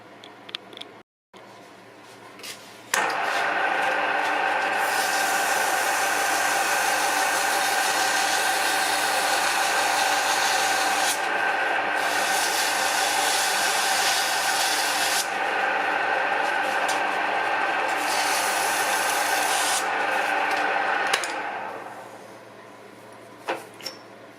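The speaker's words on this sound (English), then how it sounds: "then I get it in the drill press and send it over" A drill press spins a bolted metal part of a Rafflenbeul MS 200 against a polishing surface, a loud steady whirring rub that starts abruptly, holds for about eighteen seconds and winds down.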